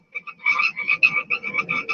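A frog croaks in a quick rhythmic series of about eight or nine raspy pulses, loud and close, with no other sound behind it.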